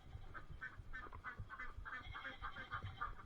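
A flock of adult ducks kept in a garden quacks over and over, with short rhythmic calls repeating across the whole stretch at moderate distance and no voices on top.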